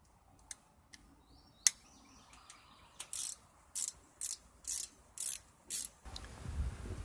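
Ratchet clicking as carburetor intake bolts are tightened on a 2009 John Deere 100 Series 19.5 HP mower, a few sparse clicks followed by a steady run of about eight evenly spaced ratcheting bursts, close and alone.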